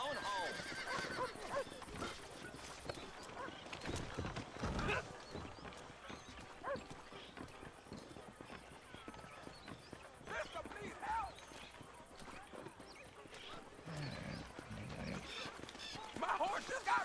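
A horse neighs and its hooves clip-clop in the Red Dead Redemption video game, with whinnies rising over steady hoofbeats and game dialogue, and people speaking throughout.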